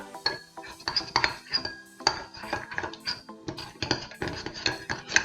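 A spoon stirs a homemade scrub of oil, sugar and honey in a bowl, giving quick, close, repeated clinks and scrapes in a steady, uneven rhythm, fairly quiet and with no voices.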